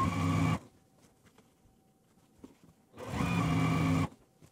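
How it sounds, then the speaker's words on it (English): A sewing machine sews quilt block rows in two short whirring bursts at the start and near the end, with a quiet pause of faint handling noises between them, close and alone. "So I'm just going to bring this over to my machine, sew these all"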